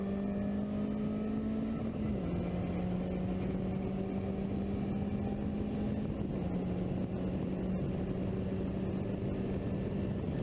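A car accelerating on the Barber race track gives a continuous, loud engine drone from inside the cabin, pitch climbing steadily and dipping briefly at gear changes.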